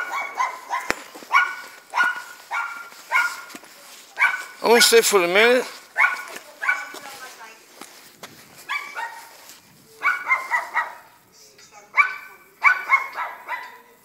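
A dog barks in short repeated bursts through steady nearby talk, with one louder, longer yelping or howling call in the middle, inside a home where a barking complaint has been raised.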